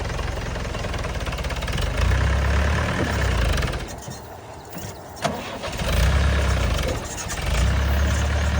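A farm tractor in Punjab revs its engine while crossing a small irrigation canal. Loud, close diesel roars surge and fall in repeated bursts, with a brief dip between them.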